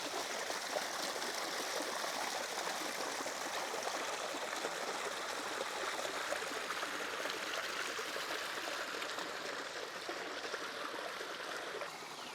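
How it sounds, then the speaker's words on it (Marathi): Babbling, gurgling water near Tungari Dam pours along continuously at close range, a dense, steady rush with small trickling splashes and no talk over it. "इकडे बघा, आता पाण्याचा आवाज आहे का फक्त खळखळ."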